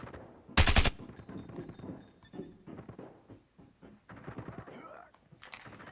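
An HG-40 (MP-40) submachine gun in Call of Duty Mobile fires one short, loud burst near the start, followed by quieter in-game sounds and someone talking.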